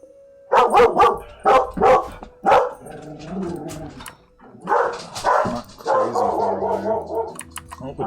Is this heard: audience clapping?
no